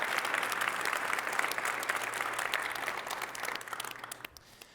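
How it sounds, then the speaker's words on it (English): An audience applauds after a census modernization presentation, a dense steady clapping that gradually thins and fades out near the end, with a low hum underneath. "So one more round of applause for the."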